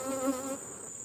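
Honeybees buzz at an open, active hive during honey harvesting, a close steady hum with a brief stronger buzz early on.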